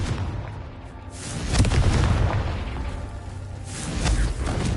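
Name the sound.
Confringo blast curse explosion in Hogwarts Legacy video game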